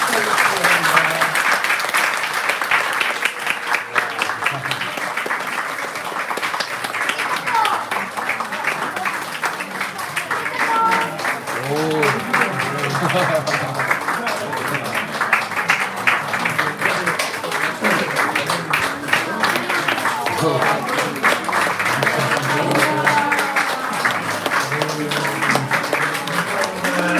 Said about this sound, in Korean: 우리 다시 한번 박수를 축하해 주시기 바랍니다.